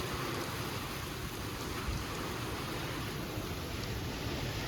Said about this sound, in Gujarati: જો મિત્રો, વરસાદ કેવો પડે છે અમારા ખેતરમાં.